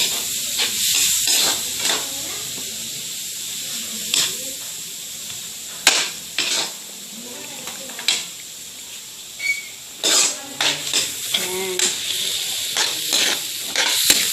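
Pork intestines frying for dinuguan sizzle and hiss steadily in a pan, broken by repeated scraping and clanking as a utensil stirs them, loud and close.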